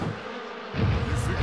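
A buzzing swarm of bees, a dense droning hum that kicks in louder partway through after a quieter start, close by.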